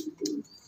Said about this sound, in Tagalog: ngayong araw nga pala ang hagis ng ating mga kalapate